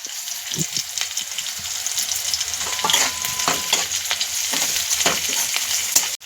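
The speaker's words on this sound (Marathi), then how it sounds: "आता मुगाची डाळ आपण 2 मिनिटं तेलामध्ये परतून घेतल्यावर" Moong dal frying in oil in a pan while being stirred, with continuous sizzle and repeated scraping and clinking strokes from a spoon, close and fairly loud, with no talk.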